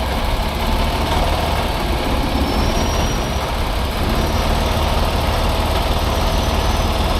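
A truck engine idles steadily after a rotator winching recovery of a truck and trailer, a constant low rumble filling the whole stretch at close range with no break and no voices.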